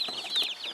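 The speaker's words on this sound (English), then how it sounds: "we have ordered our first batch of 75 Cornish hen baby chicks. These chicks are just 1 day old." Day-old Cornish hen baby chicks cheeping in a brooder, a dense flurry of high, thin overlapping peeps, close and continuous with no voices.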